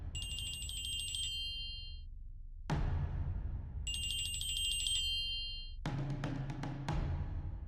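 A bright electronic ringtone chimes in two repeated bursts, separated by quiet gaps and pulsing low tones, with no talking.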